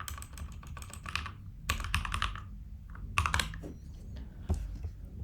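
Keys clatter on a computer keyboard while database code is typed, with quick irregular bursts of clicks separated by brief pauses, close and fairly clear.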